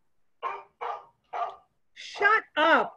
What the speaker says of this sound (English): Shut up, that damn dog!